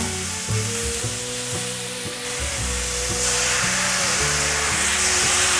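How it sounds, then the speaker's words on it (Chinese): White radish and tomato sizzling as they are stir-fried in a pan, a steady close hiss growing louder, with background music playing over it. "白萝卜稍微炒软后，放入番茄，"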